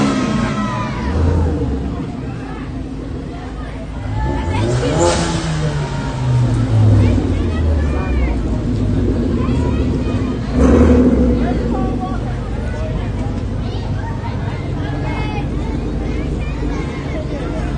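Dark Corner Cruisers cars rumble and rev their engines at a Christmas parade, a loud low roar with rising revs passing close, under crowd noise and people talking.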